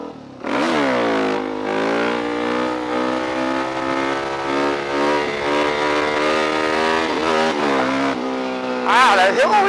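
Motorbike engine in a video game, ridden on a custom track: a loud, steady high-pitched whine that rises and falls with the throttle, with a sharp rev spike near the end, and a voice talking under it.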